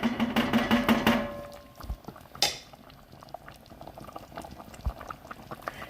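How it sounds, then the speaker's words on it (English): Sopa with fideo noodles simmering in a pot, a soft steady bubbling with small pops, plus a brief clatter and a few kitchen knocks near the start. "So I'm just going to let that simmer"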